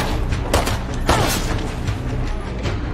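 Gunfire bursts in the zombie survival video game State of Decay 2, a few sharp shots standing out near the start over a dense, continuous rumble of game noise, with no voices over it.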